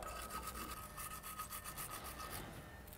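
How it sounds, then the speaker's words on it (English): A wire brush scrubs a car brake caliper with quick, rhythmic, close-up rasping strokes, faint and with no talking. "So you can use a wire brush."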